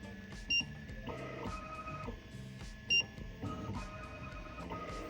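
An X-Caliber I fully automatic key cutting machine runs its calibration with the milling cutter swapped for a probe, giving a steady mechanical whir with repeated motor steps and two sharp electronic beeps, close and moderately loud.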